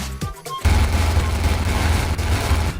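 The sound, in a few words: gatling gold gun firing in Blockman Go video game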